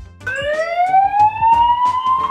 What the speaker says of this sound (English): You could also have it trigger the alarm on the gateway when it's being removed,